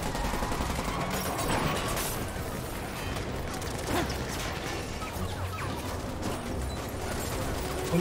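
Rapid bursts of gunfire in the Spider-Man video game as police come under fire, a continuous rattling fusillade with mechanical clatter, steady and loud throughout.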